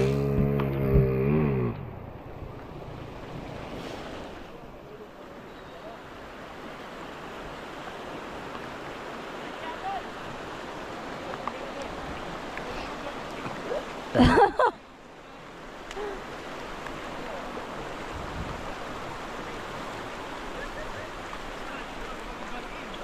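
Muddy creek water after rain flows steadily in a broad, continuous rush, with a short burst of voices or splashing at the start and a brief louder knock midway.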